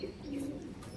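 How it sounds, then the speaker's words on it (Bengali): A pigeon from a flock of high-flying breed birds gives a low, soft coo, close by and brief. "সব ফ্লাইং ওড়া পায়রা রয়েছে"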